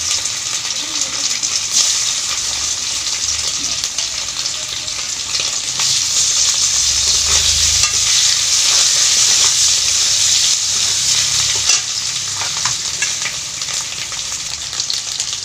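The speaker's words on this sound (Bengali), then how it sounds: "এবার আমি আলুটাও একটু ভেজে নেব" Boiled potatoes, cooked earlier with peas, sizzle and fry in a pan for a mutter paneer dish, a dense steady hiss that goes on throughout with occasional stirring scrapes and no clear talk.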